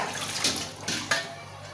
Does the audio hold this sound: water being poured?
yes